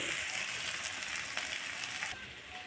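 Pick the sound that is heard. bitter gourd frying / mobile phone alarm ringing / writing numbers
bitter gourd frying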